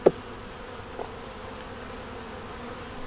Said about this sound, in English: A bunch of bees in a little group right down here in the top.